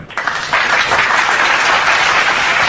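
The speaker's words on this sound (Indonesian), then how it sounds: "tepuk tangan untuk Bang Suma." A crowd breaks into applause, a dense wash of clapping that swells and holds steady for a few seconds with no talking over it.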